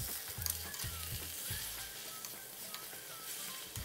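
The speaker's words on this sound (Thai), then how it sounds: "เสร็จแล้วให้เราใส่สาหร่ายของเราลงไปเลยครับซีอิ๊วขาวครึ่งช้อนโต๊ะน้ำตาลทรายครึ่งช้อนชาแล้วก็ผัดคลุกเคล้าให้เข้ากันเลยครับ" Wakame seaweed and egg stir-frying in a pan with light soy sauce and sugar, a steady low sizzle broken by scraping stir strokes, close and continuous with no talk.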